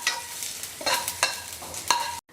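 Steady oil sizzle with several bursts of scraping and stirring as garlic and curry leaves are fried for a sambar tempering in a hot pan, ending abruptly.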